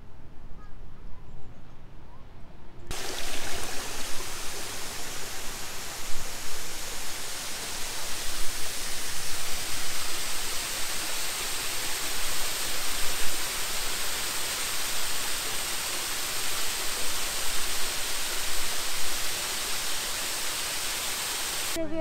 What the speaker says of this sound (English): So we're walking around the lake and we just saw a waterfall